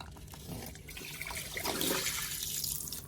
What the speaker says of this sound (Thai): เราก็จะเทน้ำอีกรอบหนึ่ง